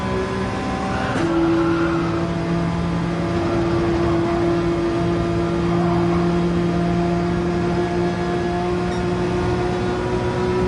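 Race car engines in Gran Turismo 7 at Maggiore, a loud, sustained whining drone with steady engine tones and a brief surge early on, no talking.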